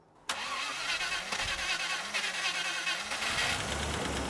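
A vehicle engine on a weak battery cranks briefly and catches, then settles into a loud, steady running roar close by.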